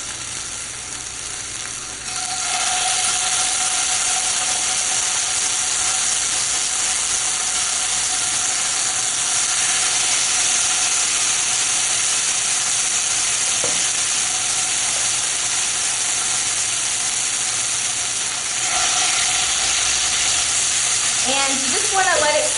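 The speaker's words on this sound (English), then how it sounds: "You want to make sure that the heat is high because we're only going to sear it for a couple of minutes on each side." Lamb chops sear in a very hot pan, giving a loud, steady sizzle that runs unbroken from start to finish with no talking over it.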